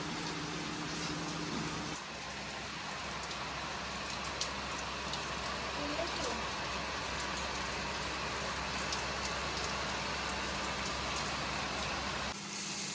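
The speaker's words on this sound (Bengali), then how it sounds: "বাইরে প্রচন্ড বৃষ্টি হচ্ছে, একদম ঝমঝমিয়ে বৃষ্টি হচ্ছে।" Heavy rain pours steadily outside, a dense, even hiss that carries on without pause and with no voices.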